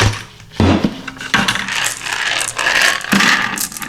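Marbles rattling and clattering off a resin casting inside a 20-liter pail, in bursts of bright jingling impacts and scraping rolls, loud and close, with short pauses between shakes.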